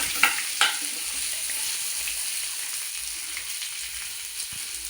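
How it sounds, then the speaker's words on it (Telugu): Ingredients for a fish curry frying in a pan, a steady close sizzle with a couple of sharp stirring knocks near the start, no talk. "ఇలా ఒక 2-3 నిమిషాలు మంచిగా ఫ్రై అవ్వాలండి."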